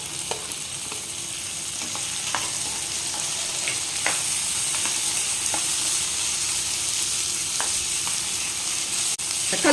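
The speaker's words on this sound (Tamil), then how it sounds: "பழம் நல்லா சுருங்க நல்லா வதக்கணும்" Chopped country tomatoes sauté in a pan with ginger-garlic paste for a spicy chicken leg gravy, a constant sizzling hiss with scattered light ticks of a spoon stirring, close and without speech.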